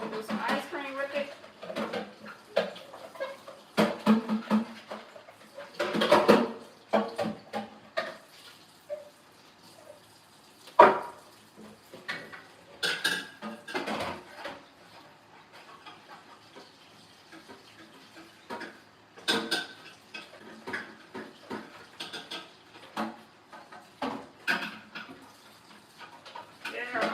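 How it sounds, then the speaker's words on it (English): Cold press juicer parts being rinsed at a kitchen sink, with running tap water, plastic parts clattering and knocking in bursts, and a voice talking over the washing. "let's rinse that clean"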